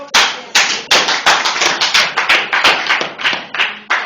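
A church congregation claps in steady rhythmic unison, about ten loud, close claps repeating every half second or so.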